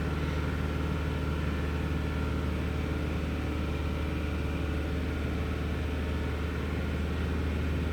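A 2012 Chevy Cruze with a valve cover vacuum leak runs with its engine held at raised RPM, a steady close-up drone and low rumble that stays even and unbroken throughout, with no talking.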